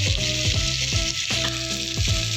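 Sankara fish fries in a pan with a steady, loud sizzle of hot oil, broken by repeated stirring or turning scrapes about every half second, close up with no talk.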